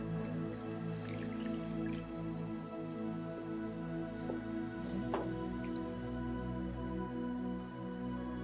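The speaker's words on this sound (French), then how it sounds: "Donc je fais un deuxième rinçage." A wet sponge rinses a facial scrub off the skin during a deep cleansing routine, giving soft drips and wet squishes over a steady low background hum, with no talking.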